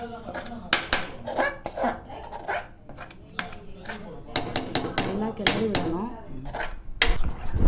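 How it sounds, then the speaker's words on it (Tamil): Pongal stirred in a pot just after hot tempering is poured in, with clattering spoon-on-metal knocks and scrapes in an uneven rhythm, close by, while a voice talks over it. "நல்லா கிளறி விடணும்."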